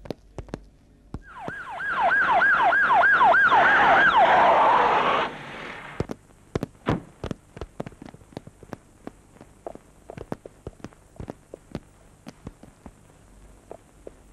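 A wailing ambulance siren sweeps up and down for about four seconds in a Hindi action movie scene, then cuts off, leaving a series of sharp footstep-like thuds and clicks.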